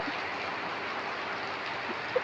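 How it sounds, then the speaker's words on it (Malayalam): Monsoon rain falls steadily in a village setting, a soft, even hiss with a few faint drips close by and one brief tap near the end. "ഇന്നത്തെ ദിവസം കണ്ടില്ലേ മഴ മഴയുടെ സൗണ്ട് കേട്ടോ"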